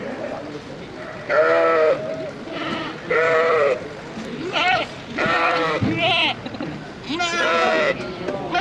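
Goats and sheep at a livestock market in Kyrgyzstan, repeated loud bleats close by in uneven bursts, with background crowd noise and some talk between calls.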